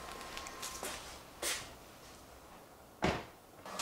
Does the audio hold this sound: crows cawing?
no